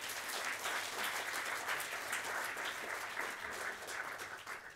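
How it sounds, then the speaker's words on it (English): Sustained applause from a large audience at a developer conference in London, even and continuous throughout with no talking. "Let's give them a round of applause."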